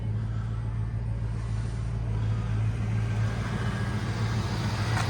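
A Ford Fox Body car idles on a used car lot, a steady low engine rumble with a constant hum, close and even throughout with no talking.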